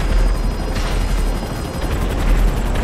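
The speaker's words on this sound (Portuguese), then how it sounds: "Olha o helicóptero." A police helicopter in the video game GTA V gives a loud, continuous rotor thrum mixed with gunfire and booms during an online war match, dense and near, with no voices over it.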